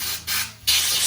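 Bursts of compressed air are blown through the carburetor of a Honda CRF110 engine during a carb clean, loud sharp hissing jets that dip briefly and then surge again, close up.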